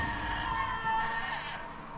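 A sheep bleats in the video game Albert and Otto. The cry is faint and brief, a soft wavering call over quiet game ambience.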